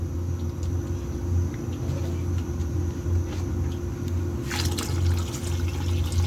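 Water runs into a pressure cooker holding soaked chickpeas in a home kitchen, a steady low rushing pour with a brighter splashing burst toward the end, close and continuous without speech.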